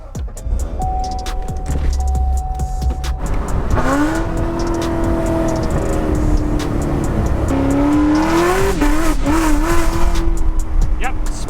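A Ford F450 Platinum truck with a supercharged LT4 engine spins its tires, the engine droning and rising in pitch with tire squeal over a constant roar, plus a voice chiming in.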